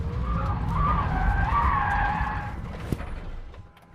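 Rimac Nevera electric hypercar drifting, its tyres skidding and squealing loudly in a sustained wavering howl for about two and a half seconds before fading away, with no engine note beneath.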